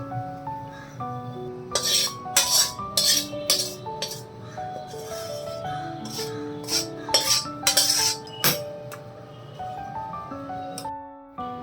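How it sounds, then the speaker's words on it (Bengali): A metal spoon scrapes fried poppy seeds stuck to a wok, making a close series of sharp metallic scrapes, clinks and rattles in irregular bursts, with no one speaking. "দেখুন পোস্তটা ঢালার পরে কড়াইতে যে ভাজা ভাজা পোস্তগুলো লেগে আছে ওগুলো আমি কুড়িয়ে এই পোস্তর মধ্যে নিয়ে নেব।"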